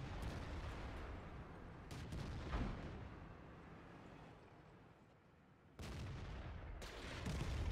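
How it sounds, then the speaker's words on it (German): Artillery shells pounding down in the tank battle game World of Tanks, a dense, continuous roar of heavy booms and rumbling blasts filling the whole stretch, easing briefly before loud impacts return. "es schießt auch schon wieder Arty auf mich"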